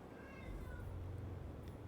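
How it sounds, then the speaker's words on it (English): A pet cat meows at a faint, quiet level, drawn-out and whiny, with a low background hum underneath. "That's my cat. He is just being dramatic."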